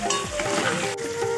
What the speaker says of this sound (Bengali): আলুটা ততক্ষণ ভাজা হোক